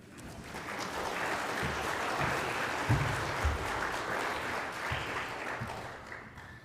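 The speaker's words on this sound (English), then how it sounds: "Can we give them one more a round of applause?" An audience claps steadily for students for several seconds, a dense and sustained round of applause that carries through to the end.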